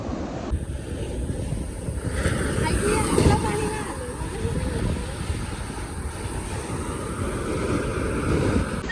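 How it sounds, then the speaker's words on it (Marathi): Sea waves washing onto the Alibag shore, a continuous roaring surge that swells slightly mid-clip, heavily mixed with gusty wind buffeting the microphone. "मस्त वाव, समुद्राचा आवाज"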